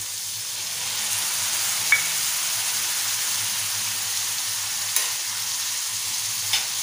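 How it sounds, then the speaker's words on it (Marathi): Green chili, ginger, garlic and coriander paste frying in a tava for prawn masala, a steady close sizzle throughout with occasional faint stirring clicks. "छान एकजीव करूया।"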